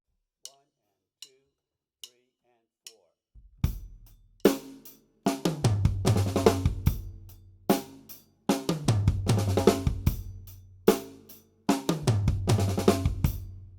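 Slow drum kit pattern of flams leading into five-stroke rolls moving across snare, high tom, floor tom and bass drum, in repeated loud phrases after a few soft count-in clicks.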